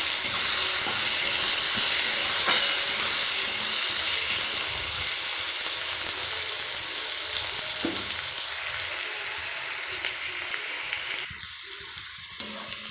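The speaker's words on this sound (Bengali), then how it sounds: "পেঁয়াজ ভালো মতো ভাজা হয়ে গেলে এর মধ্যে আমি মাখিয়ে রাখা চিকেনটা দিয়ে" Marinated chicken goes into fried onions and garam masala in hot oil for a masala doi chicken, giving a loud, steady, close sizzle that eases slightly toward the end, with no talking.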